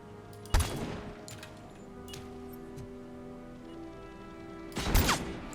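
Two sharp, loud sniper shots in Robocop: Rogue City, spaced several seconds apart, each with a booming tail over a quiet mechanical background hum.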